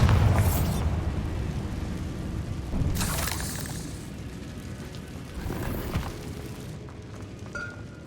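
Bombarda spell explosions blasting a barricade in Hogwarts Legacy, three loud bursting booms with shattering debris spaced a few seconds apart, each trailing into a rumbling decay, with no voices.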